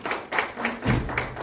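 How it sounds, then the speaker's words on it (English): A small group at a university event applauds to welcome guest speaker Nitasha Sharma, with a few loose, uneven claps and dull thuds over a second and a half, fairly close and sparse. "Let us all welcome Nitasha ji with a huge round of applause."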